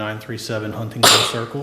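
A short, sharp sneeze bursts out in a meeting room, a single loud sneeze between stretches of a man's speech.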